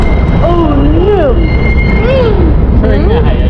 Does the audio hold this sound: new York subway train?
yes